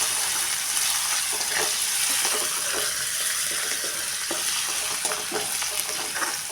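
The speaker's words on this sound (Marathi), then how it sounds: "डाळ ही थोडा वेळ तेलात परतून घेऊया" Soaked lentils (dal) sautéing in hot oil for a cabbage bhaji, a steady dense sizzle with faint crackles and stirring scrapes, close and continuous with no talk.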